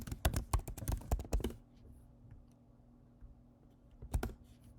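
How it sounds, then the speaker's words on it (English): A burst of rapid computer keyboard typing for about a second and a half as a command is entered, then a hushed pause with faint keys and a short final flurry of key presses near the end, no speech. "I'm just going to type this one out because it's not that long."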